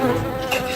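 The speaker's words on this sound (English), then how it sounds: "That was a fly, by the way." A housefly buzzes inside a car, a steady, close, wavering drone with no talk over it.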